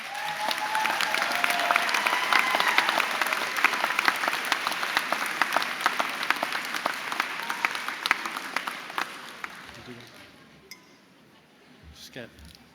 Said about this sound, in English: I think you should applaud yourselves.